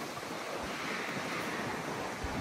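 Ocean waves roll and wash steadily at a Bahamas private island in rainy weather, a continuous broad rush mixed with heavy wind buffeting the microphone, with no speech.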